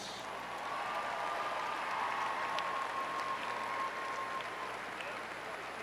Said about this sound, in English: let's give both these teams a round of applause